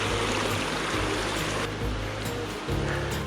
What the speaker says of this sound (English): So I have no idea what these falls are, but it's not really even a fall.